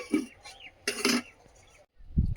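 A lid clatters onto a pot of potato dal with slit green chillies, giving a couple of close metallic clinks and scrapes with a short knock at the end.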